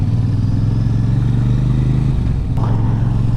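A Royal Enfield Super Meteor 650 cruiser at low speed, its parallel-twin engine a loud, steady, low burble with a slight clatter, no voices.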